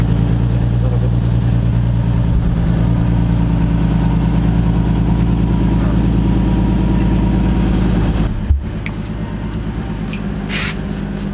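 A Nissan 370Z with an exhaust leak idles steadily with a loud, low, rapid puttering exhaust rattle, followed by a brief thump and then a slightly quieter idle.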